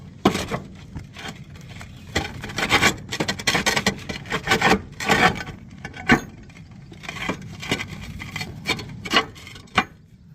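Metal roof sheeting being laid over solar panel mounting rails, a run of loud close scraping and rasping strokes in irregular bursts, with sharp knocks and clanks between them.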